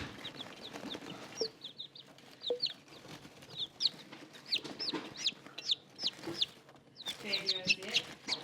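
A young chick cheeps in a brooder, a string of high, sharp peeps repeating in quick bursts, close and clear, with softer clucking and a person's voice murmuring underneath.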